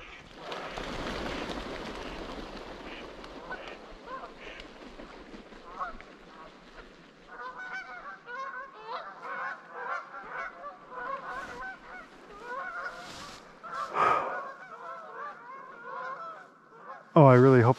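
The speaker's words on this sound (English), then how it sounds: "there's a flock of Canadian geese in a little bit of the pond over there that's melted." A flock of Canada geese honks repeatedly from a partly thawed patch of pond, a chorus of overlapping calls at middle distance with louder bursts toward the end, heard in open outdoor air.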